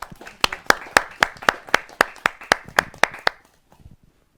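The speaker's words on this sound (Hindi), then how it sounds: "तो बहुत तालियों के साथ अभिनंदन और स्वागत किया जाए नंद किशोर राठौर नादान जी का" Audience at a Hindi kavi sammelan claps in a steady, rhythmic unison beat of about a dozen sharp claps, welcoming a poet before fading out into quiet.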